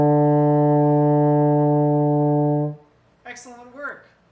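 A single sustained euphonium D, fingered with first and second valves together, held steady and full for about two and a half seconds before fading, followed by a short stretch of talking.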